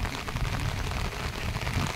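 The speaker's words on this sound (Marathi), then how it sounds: "पाऊस आहे ना" Rain pours over Konkan paddy fields during rice transplanting, a dense steady patter and hiss close by that fills the short stretch evenly with no talk.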